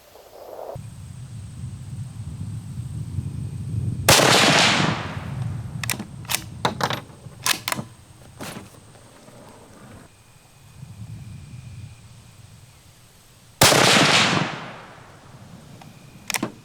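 Two loud, sharp rifle shots ring out at a target 142 yards away, spaced about nine seconds apart, each with a trailing echo, and scattered clicks and clatter fall in between.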